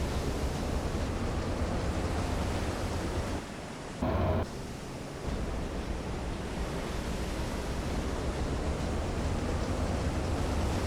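Stormy ocean waves in Silent Hunter 3 roar as a dense, constant wash of surf and wind, broken by a brief dip and a short burst near the middle.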